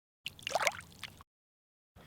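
A caught fish with a white and blue belly slips back into an urban pond, a short watery splash and trickle lasting about a second, close and soft, followed by silence.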